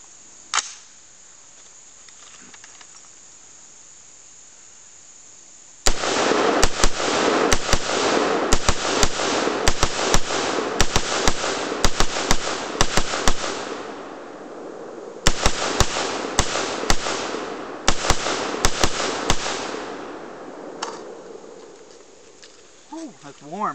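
An AR-15 rifle fitted with a Caldwell brass catcher fires about 30 rounds outdoors in fast bursts of sharp cracks. The shots come in two main strings with brief pauses, loud and close, with faint ambient noise before and after.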